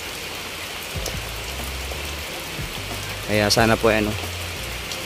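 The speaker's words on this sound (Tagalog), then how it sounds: "hindi po tumitigil ang ulan" Steady, heavy rain falls on surfaces, a continuous broadband wash running the whole time, while people talk over it and a voice rises briefly near the end.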